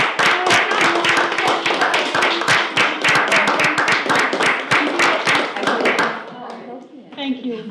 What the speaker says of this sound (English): Vasora a round of applause